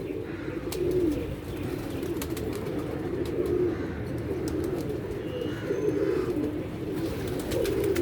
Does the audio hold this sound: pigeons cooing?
yes